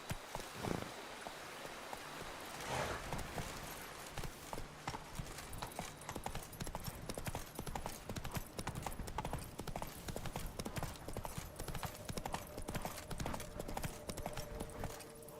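Hooves of Roach, Geralt's horse in The Witcher 3: Wild Hunt, pounding in a steady rapid gallop rhythm, close and continuous, with a faint whinny and soft ambient background, and a brief spoken line early on.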